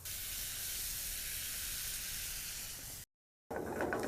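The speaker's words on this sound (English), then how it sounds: "we're going to be browning the onions" Sliced yellow onion browning in butter, producing a continuous dense hiss and sizzle that cuts off briefly, then returns with crackling.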